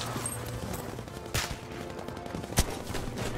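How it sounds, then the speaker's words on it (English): Distant gunfire crackles in Battlefield V multiplayer, with a few sharp shots and scattered bursts over a noisy battlefield background. "I heard somebody shooting in front of me."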